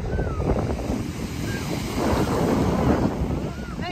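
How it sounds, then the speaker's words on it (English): Choppy sea waves at high tide roll and break near the shore, a rumbling surf with wind buffeting the microphone, swelling louder in the second half. "I mean, they're decently choppy waves, but not as bad as they were the other day."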